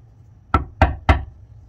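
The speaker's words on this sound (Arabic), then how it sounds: "ده في حد بيخبط على الباب" Three sharp knocks on a door, evenly spaced and close, standing alone against a quiet room in a cartoon scene.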